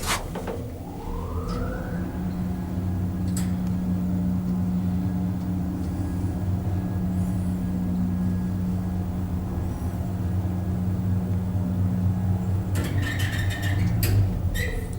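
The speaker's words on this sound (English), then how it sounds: "listen to the motor when it fires up" An old express lift at Hutt Hospital starting up: its motor settles into a steady, loud hum with a rising whine at the start. The drone holds for the full stretch, and brief clunks and rattles sound near the end.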